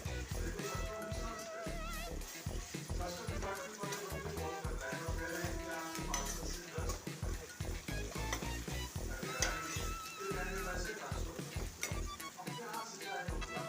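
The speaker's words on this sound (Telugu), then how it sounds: "అల్లం యాడ్ చేసుకొని మంచిగా వేగనివ్వాలి" Ginger sizzling steadily in a hot pan for a goat trotters curry, with a spoon stirring and scraping in rhythmic bursts close by, the frying hiss continuous underneath.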